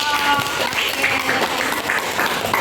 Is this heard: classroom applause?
yes